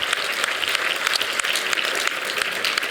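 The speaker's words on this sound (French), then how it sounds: "On peut les applaudir" An audience at a town New Year's greetings ceremony in Montignac claps steadily, a dense sustained applause of many hands that holds an even level throughout with no voices on top.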